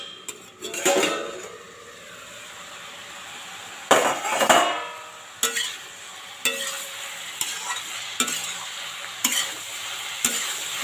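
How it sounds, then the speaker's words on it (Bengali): Radish stir-fried in a pan makes a soft steady sizzle, broken by a series of sharp metallic spatula scrapes and clinks against the pan at irregular intervals. "একটু সময় লাগে ভাজতে।"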